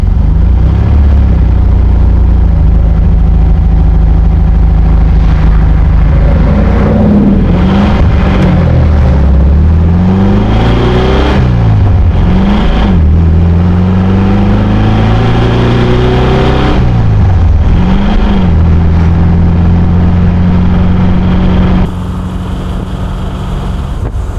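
A 1968 Volkswagen Karmann Ghia engine on a road test drive, revving up and easing off several times with rising and falling pitch. It is loud and close, with a faint rattle at part throttle, and the sound quiets near the end.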